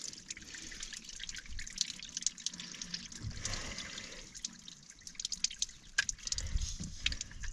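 Water dripping and trickling from a leaking harvester head motor, irregular close drips over a steady wet background hiss, no talk.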